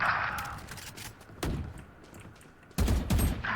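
Bursts of gunfire in the shooter game Valorant, a few loud sharp volleys spaced apart over a second or two, punching through a quieter background.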